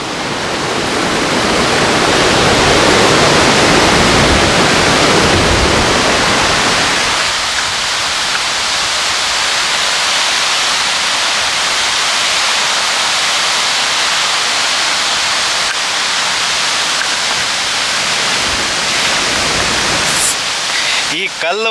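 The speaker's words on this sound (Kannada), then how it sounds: "ನೋಡಿ ಹೇಗೆ ಜಲಪಾತದ ನೀರು ಹೇಗೆ ಉಕ್ಕಿ ಹರಿತಾ ಇದೆ ಇಲ್ಲಿ" Broadband roar of Dudhsagar waterfall water rushing and tumbling over rocks, steady and loud throughout, louder in the opening seconds and continuing as a constant hiss after.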